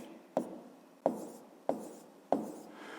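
Pen or pencil writing a number on paper, four short quiet scratchy strokes spaced about evenly over a few seconds, close and faint with no talking.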